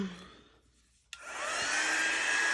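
A hair dryer switches on with a click and blows loudly and steadily up close, drying shimmer paste on a Halloween chalk-transfer decor piece, after a short quiet lead-in.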